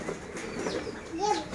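Pigeons bathing flap their wings in soft rustling bursts, with a low coo near the end, under light background voices.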